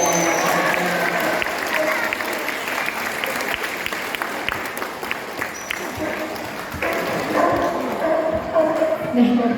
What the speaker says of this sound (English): do give him a big round of applause for me